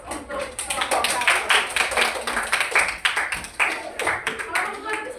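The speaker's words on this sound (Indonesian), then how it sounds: "berikan aplaus untuk kelompok 1" A classroom group breaks into lively clapping, many hands applauding together in a steady close patter for several seconds, with voices talking over it.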